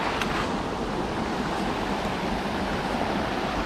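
Continuous broadband rush of falling water from a waterfall at Fall Creek Falls State Park, dense and unbroken, filling the scene at a steady level.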